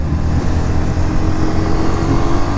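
A Honda CB250F Twister motorcycle riding on a long road trip, a loud steady engine drone with constant wind rush, close and unbroken.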